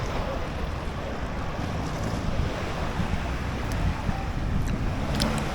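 Rough sea surf at a beach in Thailand, a steady close roar of breaking waves and wash with wind buffeting the microphone, continuous and fairly loud.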